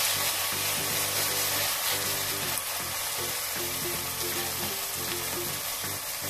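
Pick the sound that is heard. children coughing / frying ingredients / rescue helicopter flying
frying ingredients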